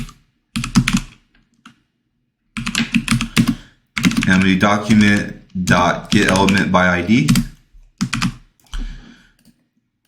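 Computer keyboard typing in bursts of quick clicks between and under a man's speech while he codes a JavaScript tip calculator.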